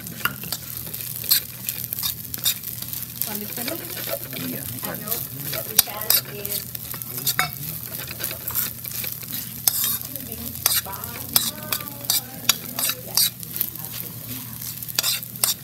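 Busy sizzling of whole peanuts frying in a hot pan with frequent scraping and clattering stirring strokes, fairly close and continuous, no talking.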